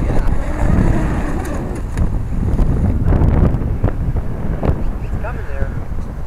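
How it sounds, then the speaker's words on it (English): Strong wind buffets the microphone continuously with a roaring rush on a boat, and water sloshes around. A voice speaks briefly under the noise. "you would never take your boat out in this windy of conditions"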